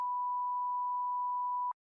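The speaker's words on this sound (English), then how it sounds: "there's our first beep" A single pure electronic beep tone holds steady and clean for well over a second and a half, then cuts off abruptly into silence.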